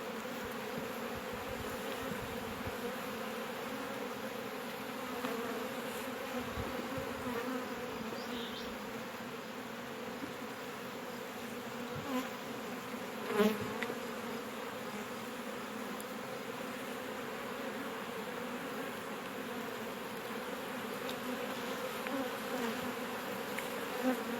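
Honeybees buzz steadily in a dense, droning hum around a hive, continuous and fairly close, with no voices.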